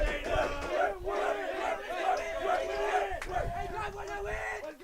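A restless crowd at a junior varsity high school baseball game between Pioneer and Canton, chanting and cheering in a loud, continuous swell as a tied game goes on, with voices rising and falling in a rhythmic pattern.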